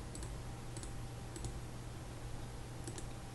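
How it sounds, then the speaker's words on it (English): Computer mouse clicks while working in video editing software, several light, sharp clicks spaced irregularly over steady background hiss. "Look here, so we'll just click, click, click, click, click."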